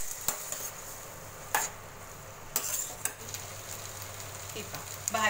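Potato bhaji being stirred after water is added, a soft background simmer punctuated by a handful of sharp spoon knocks against the pot, fairly quiet and close with no talk.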